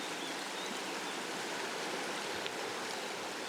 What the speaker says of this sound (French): Et j'entends toujours Laurent nous conter son amour de la rivière.